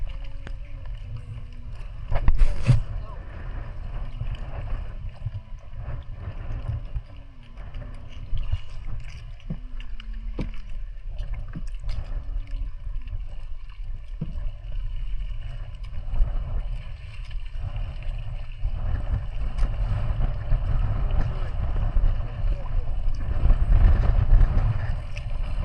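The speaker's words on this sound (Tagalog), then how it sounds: "Hangin." Steady wind buffets the microphone on a fishing boat at sea amid strong waves, a low roaring rumble that swells and gusts throughout, with faint boat and water noises underneath.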